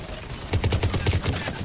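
Gunfire in the video game Mass Effect 3, a short run of rapid, close shots in quick succession lasting about a second, following a moment of quieter background noise.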